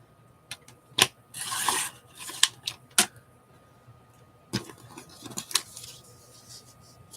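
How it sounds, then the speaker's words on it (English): Scissors cut and trim the edges of magazine pages, giving sharp snips and brief paper rustles in irregular bursts at close range, with no talk. "Let's flip it over and trim off the edge on this side."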